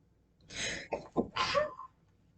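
A single sneeze with a sharp intake of breath before it, close and fairly loud, with no talking.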